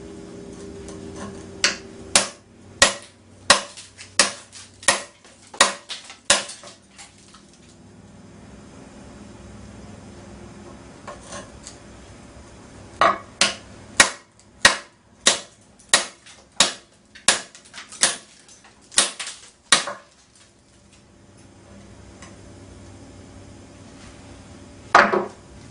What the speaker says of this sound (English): Let's go ahead and do some hammer, see if we can bust through this concrete.